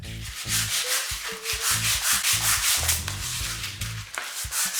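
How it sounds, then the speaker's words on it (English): Steady rhythmic scratching of 120-grit sandpaper rubbed by hand back and forth over a bamboo worktop, close and continuous with even, light strokes. "I'm just going to use a 120 grade and give it a light sand."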